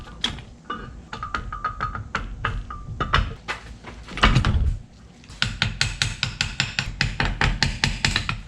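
A transmission tail shaft housing being fitted onto a T5 gearbox, heard as a string of sharp metallic taps, knocks and clinks in uneven bursts, close by and with no talk.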